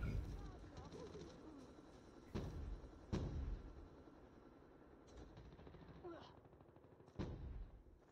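Gunfire in the mobile shooter COD Mobile during a ranked match: scattered sharp shots and short bursts crack out at intervals over a busy background of rumble and effects.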